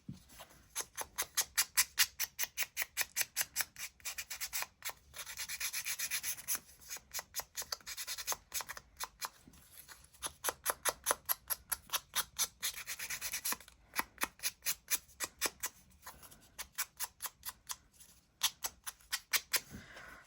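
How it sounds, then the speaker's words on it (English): Packaging for a craft journal is sanded by hand in quick, rhythmic bursts of rasping strokes that run steadily for about twenty seconds, close up and with no talk. "And then a little sand."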